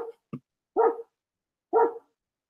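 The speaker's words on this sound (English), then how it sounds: "them dogs barking about Esau over here" Neighborhood dogs give a couple of short yips followed by two fuller barks about a second apart, fairly distant and heard alone against quiet.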